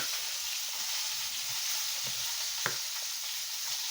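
Food sizzles and fries crisply in a hot pan, a continuous hiss with small pops and a brief utensil clink partway through, close and steady throughout.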